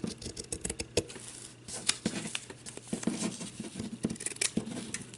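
Scissors snip through felt while cutting out a shape, a close, quiet run of crisp, irregular cuts and rustles, alone without talk.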